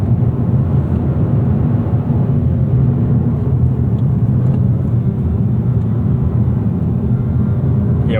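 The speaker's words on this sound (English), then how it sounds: "when you heel toe like that, you really got to blip the throttle" Inside a 2025 Mazda3 hatchback with a manual gearbox and front-wheel drive, the engine drones as a low, steady cabin rumble, loud and continuous, with no clear separate throttle blip.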